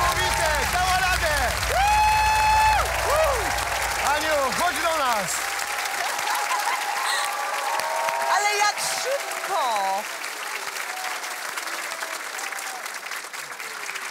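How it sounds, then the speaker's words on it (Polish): A studio audience on a televised brain-challenge game show applauds steadily and loudly throughout, with musical tones near the start and a host speaking over the clapping. "Wielkie brawa!"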